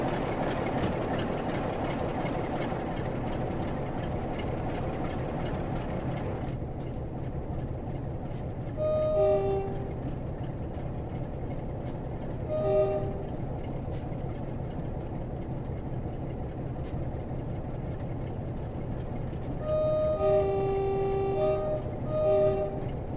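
Class 375 SouthEastern HighSpeed train running in Train Sim World 4, a steady rumbling engine and rolling drone with a few short tonal horn-like beeps, close and continuous.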